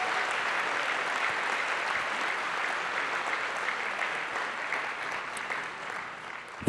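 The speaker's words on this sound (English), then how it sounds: "A round of applause, please, for our winners" Steady, sustained applause from a large audience at an F1 in Schools awards gala for the winners, even and continuous throughout before tapering slightly at the end.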